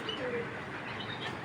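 A breeding racing pigeon coos faintly amid a busy background murmur, with a few soft calls and light chirps, low in level.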